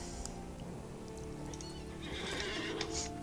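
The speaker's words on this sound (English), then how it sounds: "I keep forgetting we have a horse." A horse in a video game, The Lord of the Rings Online, whinnies over steady hoof clip-clops, with a brighter, louder neigh rising toward the end; no voices.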